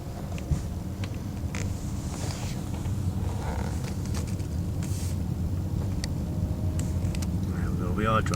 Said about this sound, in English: There we are driving, as you can see.